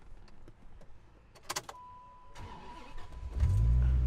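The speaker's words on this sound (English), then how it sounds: "let's give this 8-liter V10 a start" A 2000 Dodge Viper's 8-liter V10 cranks over with a brief starter whir, then catches and settles into a loud, deep, close idle rumble after earlier faint clicks and key-like rattles.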